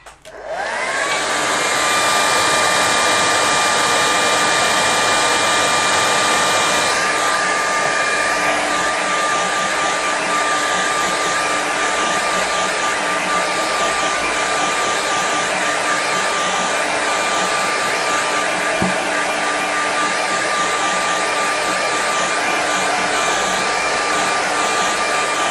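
A hair dryer blows steadily on a watercolour painting of a man trudging uphill in snow, a loud continuous whirring hum that shifts slightly in pitch after a few seconds and runs alone throughout.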